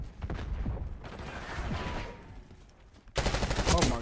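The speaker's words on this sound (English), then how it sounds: "When I shoot them now, they don't want to die." Gunfire from the video game Black Ops 6 in a holiday Nuketown match: dense, continuous bursts of shooting with mechanical clatter, jumping louder for a rapid volley near the end.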